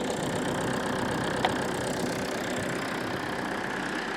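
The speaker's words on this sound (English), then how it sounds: "so engine is running" A Toyota engine idles steadily after being repaired for a P1604 no-start fault. It gives an even, continuous mid-pitched hum with one faint tick partway through, and no voices are heard.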